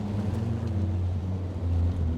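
A V8 Land Rover Defender Octa engine revs steadily while driving off-road over stones, a loud continuous low rumble with wind noise across the microphone.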